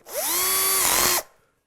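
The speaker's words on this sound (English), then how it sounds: "1/8 of an inch drill" A 1/8 inch drill bit bores a hole in a guitar kit body, a loud steady whine that ramps up in pitch, holds for about a second, then cuts off and spins down.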